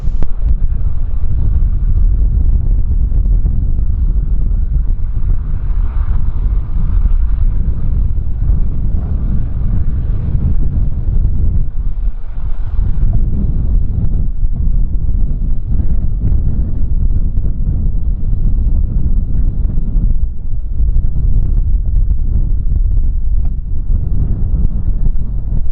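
A strong head wind roars steadily across the microphone at Kagoshima Airport during plane spotting, a loud, continuous low rumbling buffet that barely eases throughout, with no voices over it.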